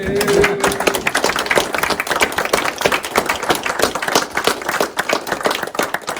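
Applause from a gathered audience at a karate gasshuku ceremony, a dense run of claps lasting several seconds, fairly loud and close, with a brief voice near the start.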